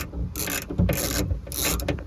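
A hand ratchet tightens the last bolt on a Lexus RX rear liftgate door panel, with several short bursts of rapid clicking close up and light handling noise in between.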